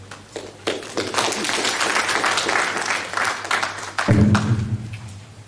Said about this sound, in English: I would like you to applaud yourselves for what you have.